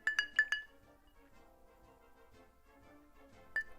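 Three quick bright clinks of a small whiskey glass holding Old Forester rye, then a quiet stretch with faint handling before one more clink near the end, close by with no talking.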